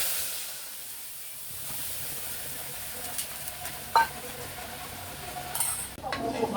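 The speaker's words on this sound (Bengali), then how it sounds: "মশলা একটু ভালো করে কষিয়ে নিয়ে তরকারিটা বসিয়ে দেবো" Spice paste of chilli powder, coriander, cumin, turmeric and ginger sizzles steadily in a pan while being stirred, with a continuous close hiss, occasional scraping clicks and a brief louder knock near the end.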